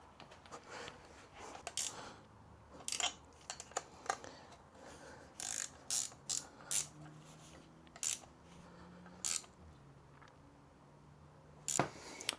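Spanner work on Aprilia RS 250 engine bolts during a rebuild, with sharp metallic clicks and taps scattered irregularly over quiet room tone, close and fairly faint.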